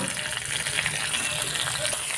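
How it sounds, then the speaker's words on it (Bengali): Washed curry leaves dropped into hot mustard oil for a cauliflower fry give a loud, steady, crackling sizzle that carries on without a break, close up and with no voices. "এবার ধুয়ে রাখা কারি পাতাটা এই তেলের মধ্যে দিয়ে দেব।"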